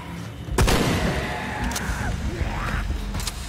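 Shotgun fire in Shadow of the Tomb Raider during a cave fight, one sharp loud blast followed by smaller bangs and scuffling commotion, with faint background clatter.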